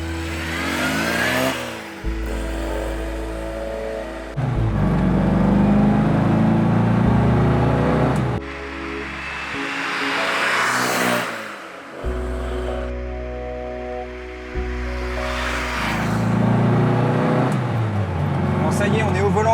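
A 1968 Mini Cooper S MKII rally car revs and pulls through the gears, the engine rising and falling with several shifts, loud and close, while someone talks over it throughout.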